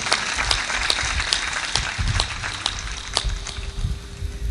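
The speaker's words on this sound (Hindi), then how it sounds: "ताली बजा के इनका सम्मान करो।" Audience clapping at a spiritual discourse gathering, a steady dense wash of many hands with sharp individual claps standing out, sustained and fairly close throughout.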